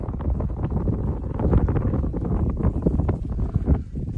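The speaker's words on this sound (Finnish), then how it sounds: "Vielä tuulee." Strong wind blows across open snowy wilderness near Kilpisjärvi, a loud, steady, gusting roar with buffeting close to the microphone. No voices are heard.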